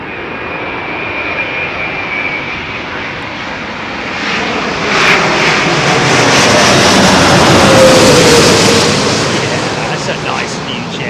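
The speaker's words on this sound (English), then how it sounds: "That's a nice new jet, isn't it?" Jet airliner arriving on runway 27L at London Heathrow Airport, its engine roar swelling loudly as it approaches and passes, then easing off, with faint voices nearby.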